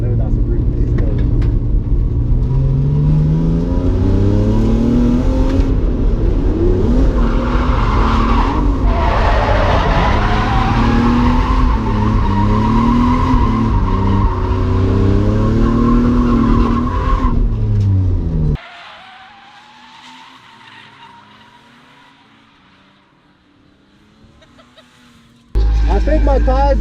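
A car drifts at Driftland UK, its engine roaring hard as tires squeal and skid continuously for most of the run before the noise cuts to near quiet, with a voice talking over it.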